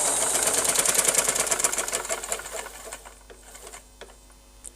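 Sewing machine stitching a long frock, a fast steady whirring rattle of needle strokes that slows and fades into sparse clicks as the stitching stops.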